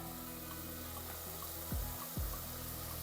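Tomato rice masala fries in a pan after Kashmiri chilli powder goes in, giving a continuous close sizzle with two quick scraping stirs near the end.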